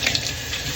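Tap water runs steadily into a kitchen sink while pots and pans are being washed, a constant close hiss and splash with no voices.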